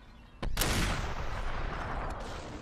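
Shotgun fire in Superhot VR: a sharp, loud blast with a booming tail, followed by a second fainter shot near the end.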